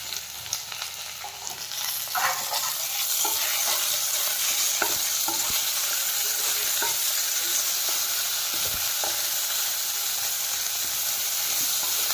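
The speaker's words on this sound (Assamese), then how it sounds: "এতিয়া বিলাহীখিনি গ্ৰেভি হোৱালৈকে ভাজি থাকিম" Chopped tomatoes frying down toward a gravy in a pan for a local chicken curry, a constant loud sizzle layered with scraping, clattering spoon strokes as they are stirred, up close with no speech.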